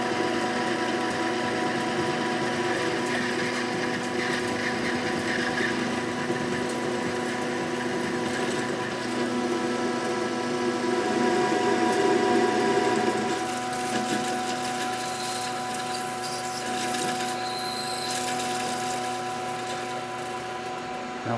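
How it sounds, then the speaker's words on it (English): A metal lathe facing off the flange of a belt sander roller, giving a steady continuous machining whine and hum with tonal bands, loud and close throughout with no talk. "now facing off the flange."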